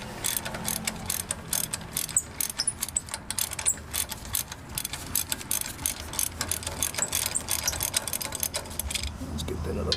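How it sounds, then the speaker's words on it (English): Half-inch ratchet clicking rapidly while loosening brake bolts on a Toyota 4Runner (1996–2002), a dense, close run of sharp pawl ticks in quick bursts for the whole stretch, with a voice at times. "Get my half-inch ratchet."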